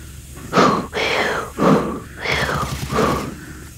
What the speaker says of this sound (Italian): Sentite come ansima.